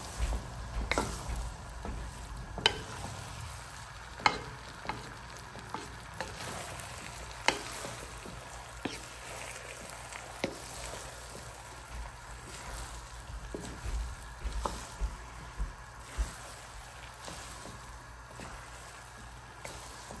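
Rice porridge being stir-fried with sugar in a pan, a steady low sizzle running throughout with scattered sharp scrapes and clacks of the spatula against the pan at irregular intervals, no voices.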